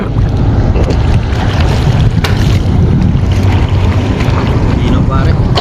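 Steady engine drone of a small fishing boat on open water, with wind buffeting the microphone and voices talking over it.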